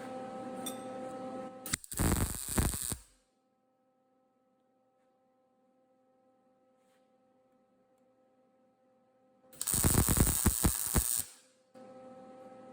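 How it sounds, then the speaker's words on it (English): Tack welding a custom fabricated tilting seat bracket for Porsche 914 seats: two short, loud crackling bursts several seconds apart, separated by near silence with a faint steady hum. "Let's see if we can get a tack on here without losing everything."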